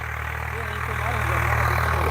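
Swaraj 855 tractor engine running during a trial, a steady low diesel throb that holds constant throughout while a voice talks over it.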